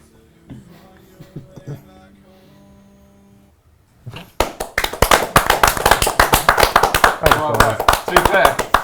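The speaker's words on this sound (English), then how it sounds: "I think we have a round of applause after this." A quick burst of hands clapping during a developer Q&A livestream starts after a quieter stretch of talk and keeps going loud and dense for several seconds, with voices mixed in.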